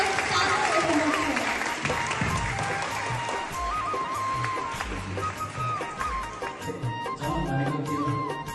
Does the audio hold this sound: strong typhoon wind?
no